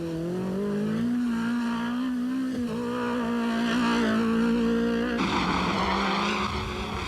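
Rally cars at the 1994 Rallye Monte Carlo drive a stretch of road, with a sustained, fairly close engine drone that rises and shifts as a car brakes and works through a corner.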